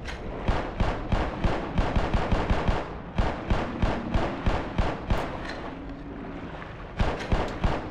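Rapid pistol fire in Black Mesa: Xen, underwater: dozens of sharp, loud shots in quick bursts with brief pauses between volleys, no talking.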